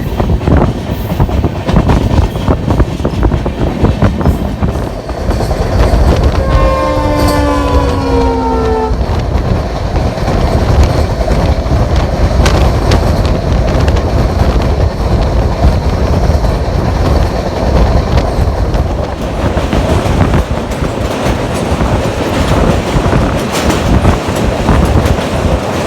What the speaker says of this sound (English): we are departing Fakiragram and our next stop is Kokorajhat station.